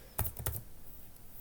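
Typing on a computer keyboard, a quick burst of two or three crisp key clicks close by, then quiet, without any speech.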